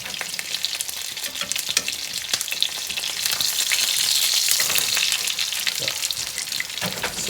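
Chicken stuffed with cheese sizzles and crackles steadily as it fries in a pan, a dense, close hiss with sharp pops throughout, swelling slightly louder midway, with no talking.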